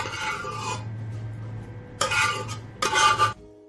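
Cooked rice is spread in layers over chicken curry in an open pot for chicken biryani, giving soft scraping and stirring noises, then two louder bursts of spoon scraping against the metal pot over a low steady hum, with no talking.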